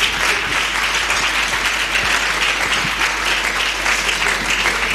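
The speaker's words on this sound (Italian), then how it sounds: "E in questi momenti di vuoto si fa un applauso." Steady, dense audience applause at an outdoor gathering, loud and sustained throughout with no voices over it.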